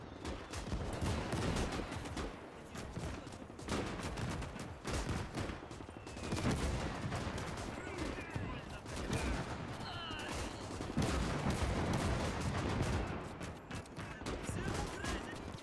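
Dense battle noise from the Gates of Hell video game in a winter trench battle: rapid overlapping rifle and machine-gun fire with booming artillery and mortar blasts, continuous and loud throughout.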